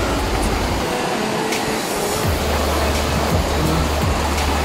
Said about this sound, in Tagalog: Yung tunog lang ng tubig,